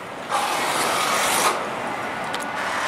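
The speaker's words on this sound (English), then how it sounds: "we can hear them working, bolting steel into place right now" Workers at an active roller coaster construction site bolt steel into place, making a loud, steady rasping mechanical noise that runs for over a second and then settles into a softer continuous background clatter.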